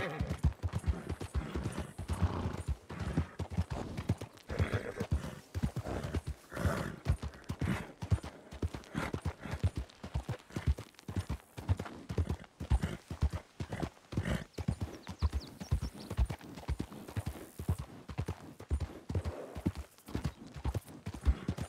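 A horse in Red Dead Redemption II gallops with fast, continuous hoofbeats, close and loud, and neighs now and then.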